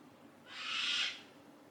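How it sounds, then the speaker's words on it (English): A single soft owl-like bird call sounds outdoors, faint and distant, rising and fading over about a second against quiet background noise. "I hate those birds."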